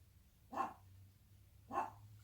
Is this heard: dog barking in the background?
yes